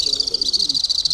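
A sound box plays a recorded Alpine swift call, a shrill, rapid trilling of high chirps that pulses steadily and fairly close.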